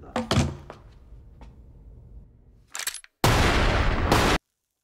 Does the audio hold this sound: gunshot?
yes